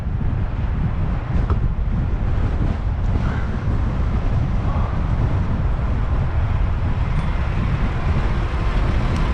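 Strong wind buffets the microphone in a constant low roar, a heavy rumbling rush with no letup throughout.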